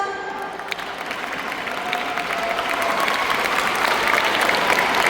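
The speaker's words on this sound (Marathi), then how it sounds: "तर 2 मिनिटं टाळ्या वाजवा." An audience at a panel discussion claps, the applause starting thinly and swelling into dense, sustained clapping with a few faint cheers, spread across a large room.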